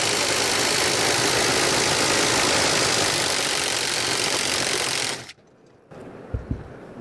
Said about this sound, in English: I'm going to use a 3/8 swaging, ProFit swage. 18 to 20 volt cordless minimum.